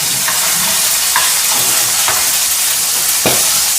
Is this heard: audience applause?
no